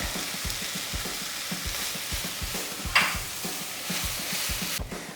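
Garlic sizzles in a hot pan on the stove while a utensil stirs it in quick, regular strokes, with one sharper clatter partway through, all close and steady.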